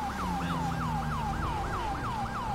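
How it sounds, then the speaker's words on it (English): A police car siren in the LSPDFR police game wails in a fast, regular yelp cycle, loud and steady over the low rumble of the vehicle's engine. "we're going to go ahead and downgrade our sirens"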